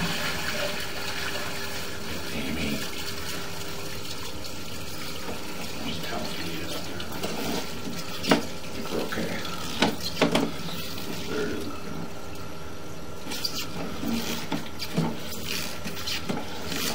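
Water runs steadily through a residential sewer line during a camera inspection in Colorado Springs, a continuous close wash with a few brief knocks and bumps from the equipment along the way.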